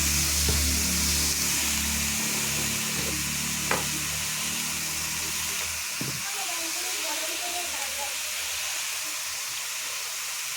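Food fries in a pan while being stirred, giving a constant hiss and sizzle with scraping stir sounds and a low rumble early on; a faint voice murmurs partway through.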